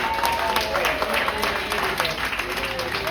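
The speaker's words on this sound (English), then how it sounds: "round of applause for this gentleman over here, please." A comedy club audience in Bay City, Michigan breaks into applause, a dense, steady patter of clapping and crowd noise at moderate volume, with a voice talking over it.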